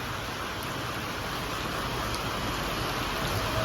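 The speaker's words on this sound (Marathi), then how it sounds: "दोन दिवस सकाळ फुल पाऊस चालू आहे आता सध्या चालू आहे" Heavy rain that has poured for two days falls steadily around Tuljapur, making a dense, unbroken hiss that stays loud and even throughout with no voices.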